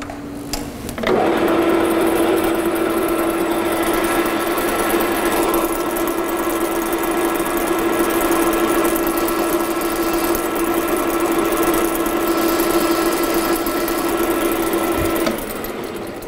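A lathe in a training workshop starts up and cuts a chamfer on the edge of a workpiece, a steady close motor hum with a bright whining tone that runs unbroken for about fourteen seconds before stopping.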